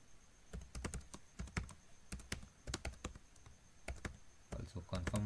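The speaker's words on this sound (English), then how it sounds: "So I will type my password." A password is typed on a computer keyboard during Gmail account sign-up, a rapid, uneven run of crisp key clicks close by that continues steadily through the clip.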